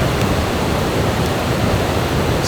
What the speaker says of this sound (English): Tennessee has incredible waterfalls.